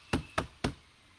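Three sharp, evenly spaced knocks marking a turn in a ceremonial initiation rite, loud and close, with silence after the third.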